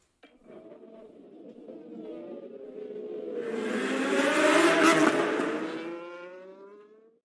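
An F1 race car engine at full throttle in the video game F1 Manager 22: a single high, layered engine whine builds in loudness and pitch, peaks, then drops away as the car passes.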